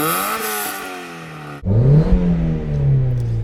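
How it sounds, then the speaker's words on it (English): A first-generation Mazda MX-5 roadster fitted with an aftermarket exhaust revs hard up close, its engine tone climbing through a held rev before dropping into a louder, throatier burble and settling. "Ray, can you rev up your Mark 1 please?"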